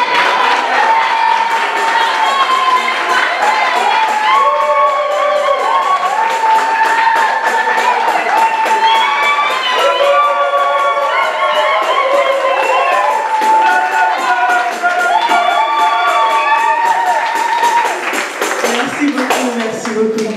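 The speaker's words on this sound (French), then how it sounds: "Applaudissements, la servante de Dieu, Maman Elikia Luzolo." Crowd at a church gathering cheering and clapping to welcome a woman preacher, with many overlapping high voices shouting and ululating over steady clapping, loud and sustained.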